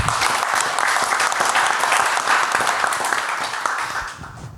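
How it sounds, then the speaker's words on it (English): An audience at a live art and culture debate bursts into dense, sustained applause that holds steady and then tapers off slightly at the end. "Big applause."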